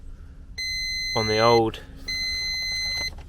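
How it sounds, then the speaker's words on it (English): Dashboard warning chime on a Mk2 VW Polo with a swapped twin cam AFH engine and oil problems, a steady electronic tone sounding with the ignition on, broken briefly by a voice before resuming. "That tells me I've got beeping at me because I've got oil problems and stuff."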